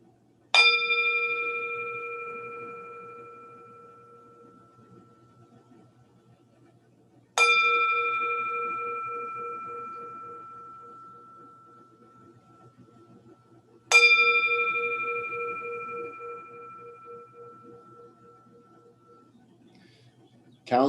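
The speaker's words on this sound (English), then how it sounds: "I also just got this awesome new bell, so I was hoping I get to use it today." A new meditation bell is struck three times at even intervals, about seven seconds apart. Each clear, ringing strike decays slowly into a long, bright sustain before the next one sounds.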